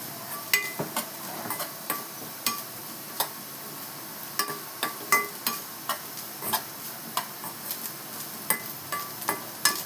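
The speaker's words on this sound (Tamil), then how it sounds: "கொஞ்சம் தேங்காய் கொஞ்சம் வறுத்துக்கலாம்" Grated coconut roasted in a pan for Tamil paruppu payasam, with a spoon scraping and tapping the pan in a steady rhythm over a faint background hiss, close by and without talk.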